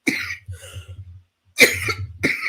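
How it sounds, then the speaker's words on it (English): Several harsh coughs in bursts: one at the start, then two more after a pause, close and fairly loud. "Guess y'all be talking about me coughing."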